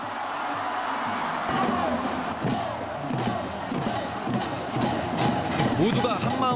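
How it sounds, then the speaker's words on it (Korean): A huge stadium crowd of 60,000 at Seoul's Sangam stadium roars and shouts throughout, a dense, loud wall of voices with scattered thumps and swelling cheers, Korean fans hoping for a goal. "모두가 한마음으로 골을 외치는 순간"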